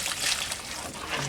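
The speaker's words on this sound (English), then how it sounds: "And just add a little water to it." Water pours into Portland cement paste mixed as a slurry for a concrete stoop, a brief close trickle and splash that lasts about a second.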